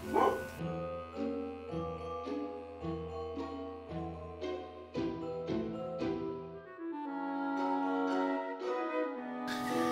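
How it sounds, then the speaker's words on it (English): A dog barks repeatedly in a steady series of loud, close yips and woofs, continuing for several seconds in an indoor setting. "And now the dog's going."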